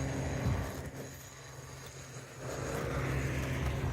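A car or truck passes on the road behind, a low broad rumble that swells and fades, then builds again, heard from a short distance across a quiet rural setting.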